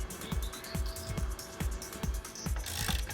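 A ratchet tightens screws with a size 19 socket while a TW X-31 tyre changer is being assembled, giving a rapid run of close mechanical clicks in quick repeated strokes.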